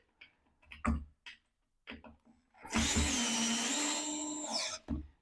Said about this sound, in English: I just use a battery operated nut driver and easily hold down any piece of wood.